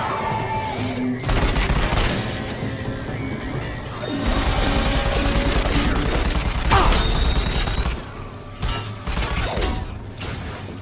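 Gunfire in the VR shooter Raw Data sounds through a busy game mix, with bursts of shots over mechanical whirring and synth tones across the clip.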